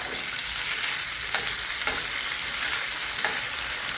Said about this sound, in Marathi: छान असे कडक तळून घ्यायचे आपल्याला.